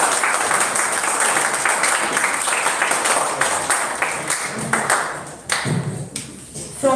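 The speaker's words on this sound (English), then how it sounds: "Can we have another huge round of applause to the spirit of RaCK?" A large audience gives a long round of applause at a Rotaract club event, dense clapping that carries for several seconds and then thins out with a few scattered taps near the end.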